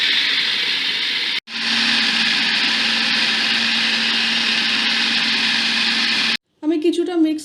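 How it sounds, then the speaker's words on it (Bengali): A food processor whirs loudly and steadily as it mixes chicken momo filling, starting abruptly after a brief pause and cutting off before a short burst of speech at the end. "আমি প্রসেসরটাকে আটকে নিচ্ছি, এবারে এটাকে মিক্স করে নেব।"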